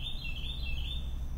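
A bird chirps outdoors in a steady run of bright, high warbling notes over a low background rumble, with no voices.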